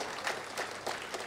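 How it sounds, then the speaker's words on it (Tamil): Short burst of light audience clapping at a Tamil comedy speech, scattered and fairly faint, rising and falling in a few small waves with no talk over it. "சும்மா கொஞ்சம் தான் கைதட்டுறீங்க."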